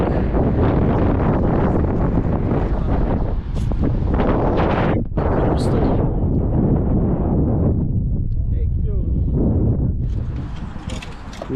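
Loud, continuous wind roaring and buffeting the microphone on open water by the shore during small motorboat fishing, which eases off slightly toward the end.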